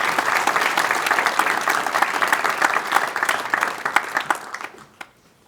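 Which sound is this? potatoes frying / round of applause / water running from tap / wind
round of applause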